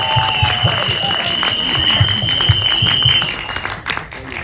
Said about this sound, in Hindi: हमारे डायरेक्टर साहब अनुकल्प सर के लिए एक बार जोरदार तालियां